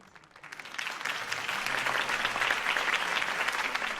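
A crowd bursts into applause after a political campaign speech by Harvey Dent in a Batman game scene, swelling quickly from quiet into a steady, dense clapping that holds at moderate volume.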